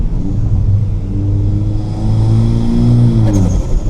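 A Ford Mustang EcoBoost fitted with CVF charge pipes and an HKS blow-off valve revs up close and loud, its engine tone climbing steadily over about four seconds before a brief hiss at the end.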